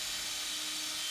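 A very thin drill bit whines steadily as it bores holes into a hinge template, a high, continuous drilling sound heard close up with no talking.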